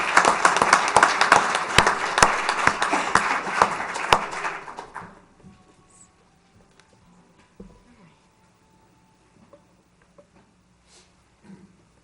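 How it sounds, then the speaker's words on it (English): An audience at a town council meeting gives a round of applause, dense clapping for about five seconds that tapers off into near silence with faint room sounds. "Let's give them all a big round of applause, huh?"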